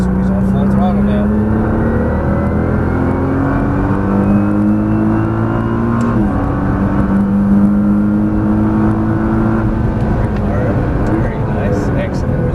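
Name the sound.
Nissan GT-R accelerating at full throttle on racetrack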